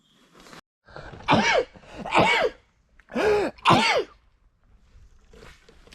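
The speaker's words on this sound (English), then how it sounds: "well, that was a sneeze." At a woodland campsite, a few sharp, breathy sneezing bursts close by, one after another with short pauses, then quiet shuffling.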